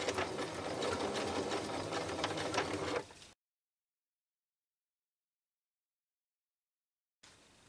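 A sewing machine stitches a baby bib, a fast rattling whir running loud and continuous for about three seconds before cutting off into silence, then briefly resuming at the very end.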